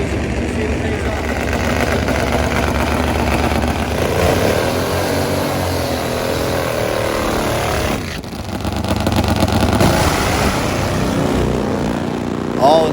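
Top Fuel nitro Harley drag-racing motorcycles at a racetrack, a loud sustained engine roar that swells and shifts over several seconds with a brief dip, while a commentator talks over the din.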